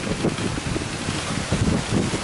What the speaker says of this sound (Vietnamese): quá quá gió à mưa nữa mà mưa tới này